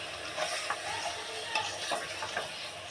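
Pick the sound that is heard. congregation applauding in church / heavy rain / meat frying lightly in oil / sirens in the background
meat frying lightly in oil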